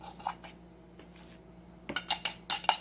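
A very small baby spoon clinks and scrapes against a coffee grinder container while spreading ground coffee, a few faint taps early then a quick run of brighter metallic clicks near the end.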